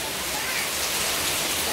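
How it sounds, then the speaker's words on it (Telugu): Heavy rain falls steadily during a trip to Tirupati, a dense, even hiss of water that fills the whole moment without a break, with a voice faintly present underneath. "వర్షం పడిపోతా ఉంది"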